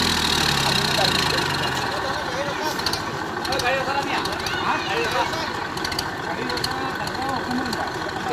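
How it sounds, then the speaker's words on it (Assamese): A tractor engine runs steadily while the tractor drives through water, its continuous mid-low rumble with a knocking edge staying loud and close throughout, with voices talking over it. "এই আমাৰ ট্ৰেক্টৰ ৰাস্তা চলাবলৈ নাপায় পানীটো চলাইছে চব"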